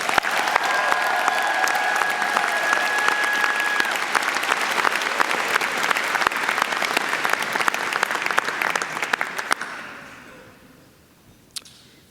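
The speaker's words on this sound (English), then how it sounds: "let's hear another roar of applause for all our award winners" A convocation audience applauds award winners with loud, sustained clapping that stays even for about nine seconds, then dies away into near quiet with one last stray clap.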